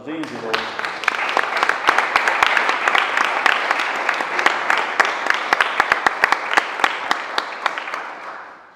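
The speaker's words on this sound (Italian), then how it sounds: "va fatto un gran applauso all'Associazione Sportiva Furlana" An assembly audience of the Friulian linguistic community applauds the Associazione Sportiva Furlana: dense, sustained clapping from many hands with sharp individual claps standing out, holding steady for several seconds and thinning out at the end.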